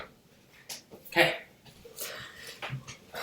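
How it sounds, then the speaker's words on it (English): A dog comes into the room during a chess stream, with close, faint snuffling, whimpering and jingling bursts scattered unevenly, one louder at the start. "My dog coming in."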